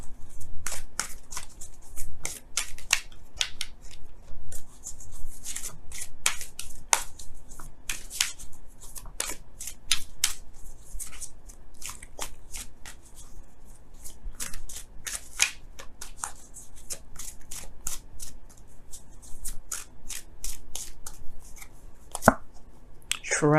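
Romance Angels oracle cards being shuffled by hand, a steady run of quick papery riffles and soft card slaps that keeps going closely and fairly loud with no talking.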